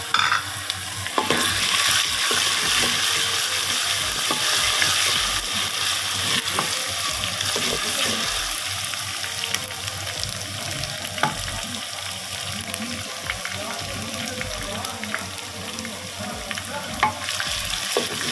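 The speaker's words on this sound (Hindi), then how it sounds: "ये तेज़ आंच पे मसाला भूनना है।" Steady crackling sizzle of ginger-garlic masala frying in hot oil over high heat, with scraping stirring strokes throughout; close and moderately loud, no talking.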